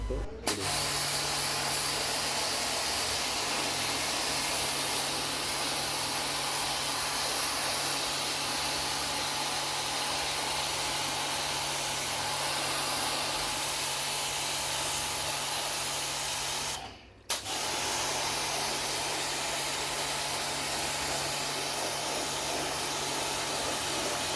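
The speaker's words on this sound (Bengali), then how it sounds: "হাই পাওয়ার মেশিন দিয়ে এবং গান দিয়ে আমরা সার্ভিসিংগুলো করি।" A high-pressure hydro wash machine and spray gun clean an air conditioner, giving a loud, steady hiss of spraying water that runs almost without a break, with one brief cut-off near the end.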